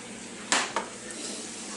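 Spaghetti being stirred in a pan, heard as two quick scraping clinks of a utensil against the pan over a faint, steady background hiss.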